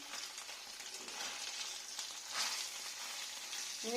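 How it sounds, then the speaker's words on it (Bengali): Paneer and vegetables frying in ghee in an aluminium wok (kadai), a faint, steady hiss of sizzling with slight stirring swells and no talking. "বেশি ভাজার দরকার নেই"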